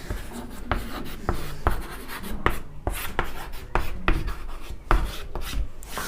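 A lecturer writes on a board during a Hindi-language economics lecture. Steady scratchy strokes come close and clear, with sharp taps at regular intervals as each word forms, and no talking.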